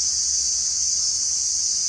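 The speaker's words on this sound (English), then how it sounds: "crickets are loud." Crickets chirp in a continuous, shrill, even trill that holds steady throughout, with no voices or other sounds.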